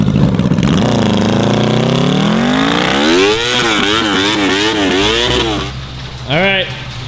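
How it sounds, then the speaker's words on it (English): A sport motorcycle engine swapped into a quad revs in rising and falling sweeps, the revs hanging high rather than dropping back, before a final sharp blip; loud and close. "when I rev this thing up, it doesn't come back down"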